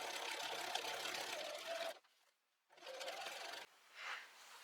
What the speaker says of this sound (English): I finished my decorative stitch in the center, and I did do a straight stitch around the edge